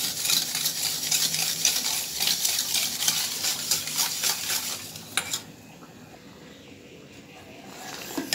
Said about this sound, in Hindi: दूध में चीनी को अच्छी तरह से मिक्स करेंगे।